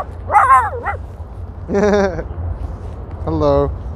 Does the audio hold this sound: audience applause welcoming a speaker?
no